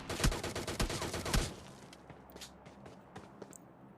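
Shotgun blasts in the Rush gameplay video game: three loud, sharp booms in quick succession, followed by quieter scattered gunfire and faint footsteps further off.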